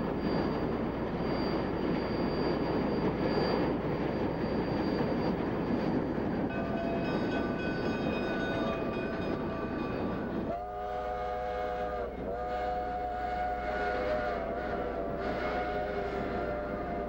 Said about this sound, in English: the train passes a water tank and then crosses a wooden trestle